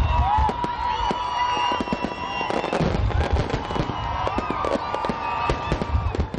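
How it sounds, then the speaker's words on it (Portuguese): A New Year's fireworks display bursts over a crowded beach in Caraguatatuba, with dense, continuous sharp cracks and booming explosions layered close together and loud throughout, under a steady roar of the crowd. "No começo da reportagem, você viu a queima de fogos."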